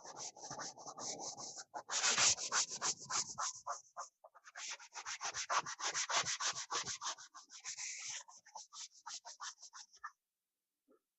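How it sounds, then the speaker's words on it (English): Worn sanding block rubbed over wood in quick, rhythmic back-and-forth strokes, close and bright, a dense burst early then a long run of regular strokes before stopping near the end; no voices. "Sanding block has seen better days."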